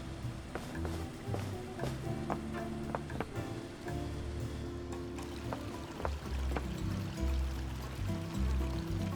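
Water runs and trickles in the Leisure Suit Larry: Wet Dreams Dry Twice video game, a continuous splashing flow with scattered droplet clicks and taps over a low background tone.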